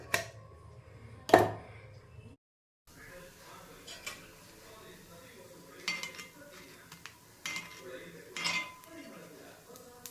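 Masala paddu cooking in a pan at home, scattered clinks and scrapes of utensils against metal, close and moderately loud, with a brief silent gap and soft background noise.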